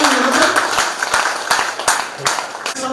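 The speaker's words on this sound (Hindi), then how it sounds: "एक बार जोरदार तालियों से पुस्तक का लोकार्पण" A crowd at a Hindi book launch and poetry gathering breaks into applause, a dense steady patter of many hands with sharper individual claps standing out, mixed with voices talking over it throughout.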